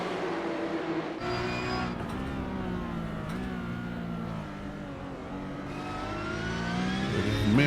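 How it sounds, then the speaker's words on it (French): A pack of Porsche Cup race cars sweeps past on a circuit in Mexico, overlapping engine whines rising and falling as each car goes by, a continuous loud roar of several cars in turn. "Un méchant beau train de voiture ici."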